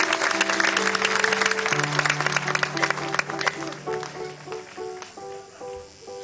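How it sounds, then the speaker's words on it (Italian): Loud audience applause at an Italian concert medley, a dense wash of clapping under sustained music, thinning out toward the end as the band plays on. "un applauso, un forte applauso."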